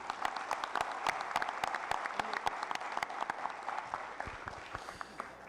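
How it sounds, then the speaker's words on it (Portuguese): A round of applause fills a municipal council chamber at a public hearing on city sports in Criciúma, steady crowd clapping with many distinct sharp hand claps standing out over the dense wash, no voices over it. "uma grande salva de palmas a todos vocês que fazem o esporte de Criciúma acontecer"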